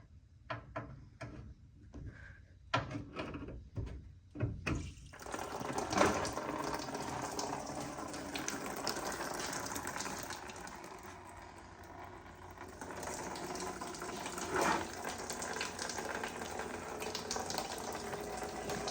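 Fluid drains from the radiator of a Ford Fairlane with a 260ci engine, a few knocks and clanks first, then a continuous splashing trickle of liquid pouring out, close and moderate.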